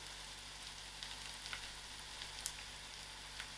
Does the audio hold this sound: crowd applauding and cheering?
no